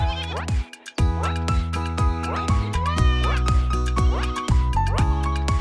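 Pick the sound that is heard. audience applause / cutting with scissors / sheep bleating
sheep bleating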